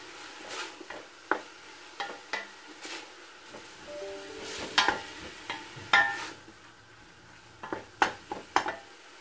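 Small pieces of beef or lamb sautéing with coriander and celery in a pot for chorba, a soft sizzle punctuated by repeated sharp clicks and scrapes of stirring, close and moderately loud.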